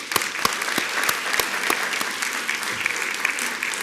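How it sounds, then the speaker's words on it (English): Loud, full applause from an inauguration audience, dense crowd clapping at a steady level with a few sharp individual claps standing out near the front. "and that's worth applauding."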